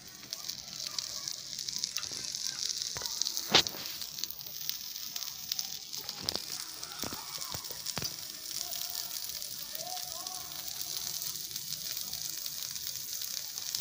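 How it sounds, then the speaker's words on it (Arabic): Shrimp sizzle on a hot, oiled stovetop grill, a steady quiet hiss with a few sharp crackles and pops, close by; no talking over it. "سخنت التوستر بتاعي ودهنته زيت، واروح بقى ايه رص الجمبري عليه كده"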